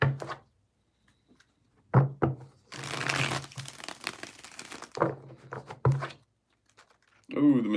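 Tarot cards shuffled by hand in a few separate bursts of crisp riffling and knocking, close and moderately loud, with quiet gaps between them and a voice briefly at the end.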